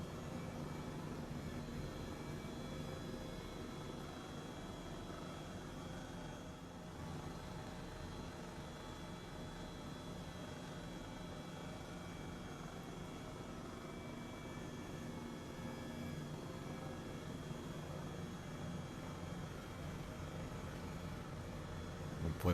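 Simulated Airbus H135 helicopter cruising over Paris in Microsoft Flight Simulator, a steady, fairly quiet engine and rotor drone that holds an even level throughout, with no talk.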